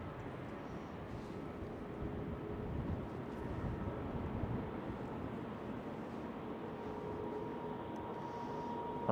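JetBlue Airbus A321neo taxiing at Schiphol Amsterdam airport on a windy day, a steady distant jet engine rumble under heavy wind noise buffeting the microphone, continuous and fairly faint, no talk.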